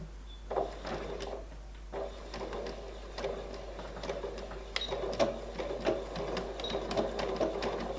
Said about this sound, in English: So I'm going to sew for a couple of inches.